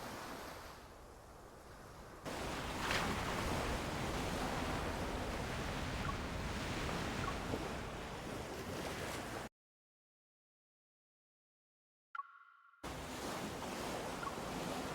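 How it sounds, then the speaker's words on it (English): Ocean waves from the game Love and Deepspace make a continuous broadband surf wash. It is fairly loud and steady, drops to silence briefly near the end, then returns, with no talk over it. "The sound of the waves seems to be getting louder."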